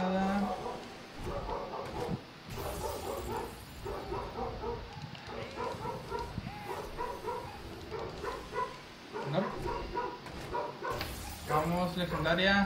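A dog barks and yips repeatedly in bursts close by, often overlapping someone talking in Spanish, with a brief whimper between barks.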